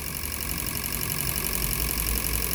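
A Maruti Ritz petrol engine idles at about 800 RPM without throttle, giving a steady, close, even mechanical hum and rumble with a faint high whine.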